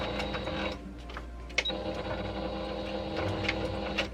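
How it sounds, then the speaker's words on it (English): A sewing machine stitches a fabric bowl cover in close, rhythmic bursts of rapid mechanical whirring, pausing and restarting briefly between runs of stitching, with small clicks between. "I like to do a couple reverse stitches while I'm sewing just to kind of keep it tight"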